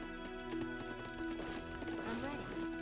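Quick, clattering horse hoofbeats clip-clop in a steady rhythm under game music in Age of Empires 3, with a faint whinny mixed in.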